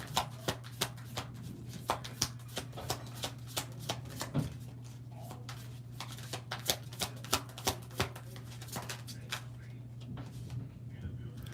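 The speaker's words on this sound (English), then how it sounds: "Let me get us a shuffle." Tarot cards being shuffled in quick repeated riffles and taps, close and crisp, over a low steady hum.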